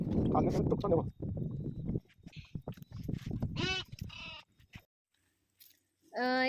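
Grazing sheep bleat loudly in a few wavering calls toward the end, after a stretch of talking with the flock faint underneath.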